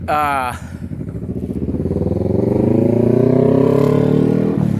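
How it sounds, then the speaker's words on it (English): A motorcycle engine revs loudly nearby at Port Royal Historical Park, its throaty pitch climbing and holding steady in a sustained roar. "I got some goofball behind me making noise with a motorcycle"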